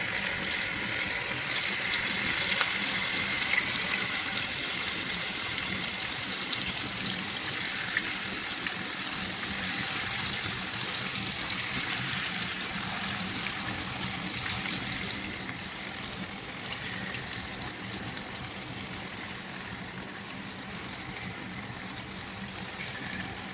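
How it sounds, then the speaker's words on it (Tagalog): Tofu frying in hot oil in a home kitchen, a steady, even crackling sizzle that continues without a break for over twenty seconds, close and moderately loud. "Ilagay na po natin yung ating tokwa."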